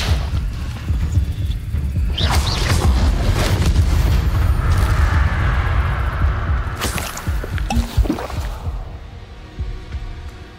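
An Incendio fire spell cast in Hogwarts Legacy, a loud whooshing burst of flame with rumbling booms that swells around two to three seconds, flares again near seven and eight seconds, then fades out, with no talking.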